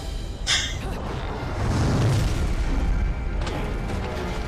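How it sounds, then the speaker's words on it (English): A single deep explosion in the video game Bayonetta booms and rumbles, followed by a sustained low roar and crackling debris, loud and close. "Yeah, I just heard an explosion."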